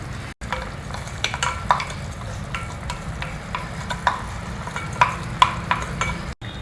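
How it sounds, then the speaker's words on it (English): Ground masala is stirred into sambar rice in a pan, with a spoon scraping and clicking against the metal in an irregular rhythm over a low, steady simmer, close and fairly loud. "Mix it all well together"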